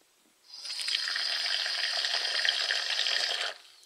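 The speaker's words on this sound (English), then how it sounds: "Next, you're going to want to add some water to this chalk and mix it around until you have yourself a paste." Water pours from a container onto powdered chalk for about three seconds, a steady close hiss and trickle that stops abruptly, with no voices.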